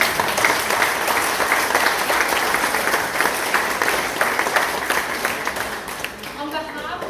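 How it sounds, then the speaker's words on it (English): An audience at an exhibition opening for nurses and midwives applauds warmly with dense, sustained clapping that fades toward the end, with a voice briefly audible as it tails off. "Can we thank them from a round of applause?"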